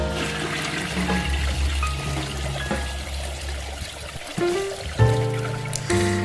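A toilet flushing: loud rushing and pouring water that swirls and gurgles, then changes pitch near the end as the bowl refills, close up and with no voices.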